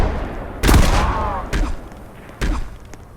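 Gunfire in a multiplayer video game: three sharp, loud shots roughly a second apart, each with a short rumbling tail, with no talk over them.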